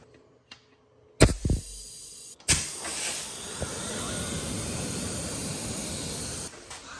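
Loud steady hissing rush from a Cummins 12v diesel engine with a blown intake gasket that has a piece pushed out, starting after a couple of sharp bangs and holding close and continuous.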